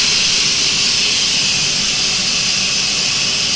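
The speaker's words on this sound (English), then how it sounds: "So all I've got to do now is release the pressure to get the runner beans in. Now this is when it makes the steam." Steam vents from a pressure cooker being released before adding runner beans, a loud, steady, unbroken hiss rushing alone for the whole stretch.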